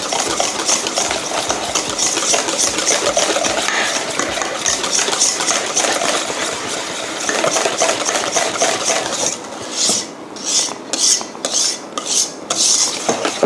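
Yogurt, cream cheese and sweetened condensed milk are beaten together in a bowl for a strawberry cream cheese tart, giving a loud, steady whirring and rattling that turns into rhythmic pulsing bursts toward the end, with no speech.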